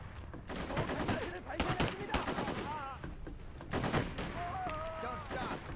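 Rapid bursts of gunfire from a Ghost Recon 2 firefight on PS2 rattle repeatedly at close range, mixed with voices calling out.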